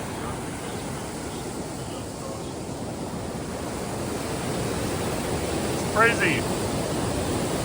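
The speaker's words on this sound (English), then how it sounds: "This is the most water I've seen go over this waterfall ever." A waterfall swollen by heavy rain pours in a loud, steady broadband roar of rushing water, with a few brief spoken words heard over it near the end.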